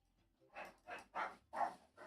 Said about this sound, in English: Oh my god, my dogs.